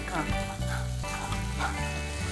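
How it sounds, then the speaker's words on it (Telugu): Peanut, sesame and coconut paste roasting in oil for an onion salan, a steady close sizzle and frying crackle running throughout with occasional stirring and strong tonal background sound over it. "పేస్ట్ ని కొద్దిగా బ్రౌన్ కలర్ వచ్చేదాకా రోస్ట్ చేసుకోవాలి"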